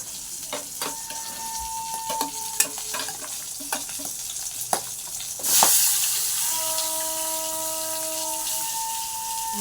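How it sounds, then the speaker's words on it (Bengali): Fish frying in hot oil in a home kitchen: light clinks and stirring first, then a sudden loud burst of sizzling as the pieces hit the pan, settling into a steady close hiss with a faint whistling tone. "তো এখন মাছ ভাজা ছাড়লাম, মাছ ঝোল করবো।"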